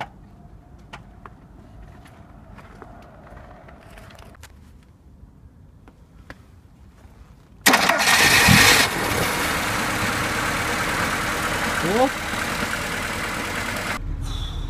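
After several quiet seconds, a car engine cranks and catches, then roars loudly and settles into a steady running hum up close.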